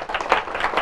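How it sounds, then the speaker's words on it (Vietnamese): A class of students applauds, a short spatter of many hands clapping together, moderately loud and steady, with no voice over it. "cả lớp cho tôi một tràng vỗ tay thật lớn"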